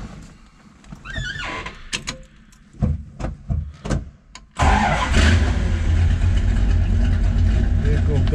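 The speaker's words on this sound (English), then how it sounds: "Vehicle does start right up. Sounds well." A restored 1970 Dodge Super Bee muscle car engine cranks and catches, then settles into a loud, steady rumbling idle after a few seconds of clicks and mechanical handling.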